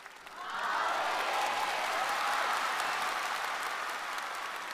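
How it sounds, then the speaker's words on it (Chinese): Musicians in the orchestra pit of a televised singing competition break into applause, a broad wash of clapping that swells quickly and holds steady and fairly loud throughout. "乐池里的乐手鼓掌。"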